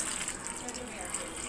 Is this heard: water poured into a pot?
yes